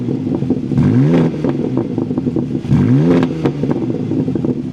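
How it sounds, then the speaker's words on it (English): A 2025 BMW M2 engine idles loudly up close and is blipped twice, each rev rising quickly and falling back to a steady, throaty idle. "let's start this M2 back up now and take a listen to some of those revs"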